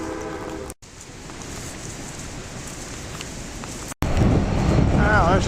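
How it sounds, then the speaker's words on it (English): A train rumbles steadily across a bridge, a broad low roar that swells louder near the end, with a few faint scattered noises on top. "Now there's a train going across the bridge."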